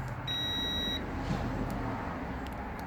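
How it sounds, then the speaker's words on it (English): Beeping from a tester checking an old brake safety switch on a 2004 Ford F-150, a clear electronic tone that sounds steadily for under a second and then stops, over a constant low hum with no voices. "It just beeps and not beeps sometimes."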